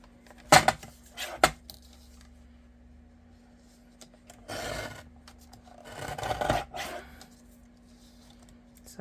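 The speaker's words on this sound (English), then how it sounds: "So let's put this in the guillotine." A paper guillotine slices through book pages with a few sharp scraping cuts and rubbing shuffles, two quick strokes early then longer gritty passes later, quiet and close.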